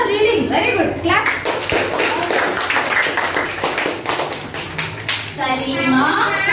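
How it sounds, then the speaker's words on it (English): A room of schoolchildren clap together during a classroom lesson, a dense burst of hand claps that carries on throughout, with children's voices chattering over it. "Clap."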